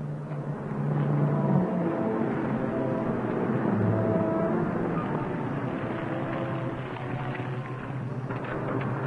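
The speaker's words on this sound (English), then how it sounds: "Here comes another car." A car approaching along a road, its engine a steady, full rumble that holds for about nine seconds with no one speaking.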